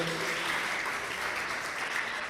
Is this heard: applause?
yes